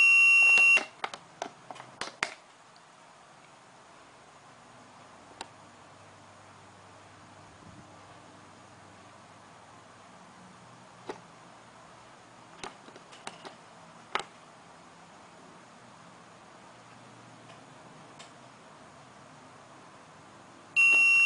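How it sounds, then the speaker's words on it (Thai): A CPLD-based digital alarm clock buzzer beeps in rapid bursts at the start and again at the end, with quiet room noise and faint clicks between. "เมื่อถึงเวลาแปดโมงครึ่งครับ เสียงบัสเซอร์ก็ดังอีกครั้งนะครับ"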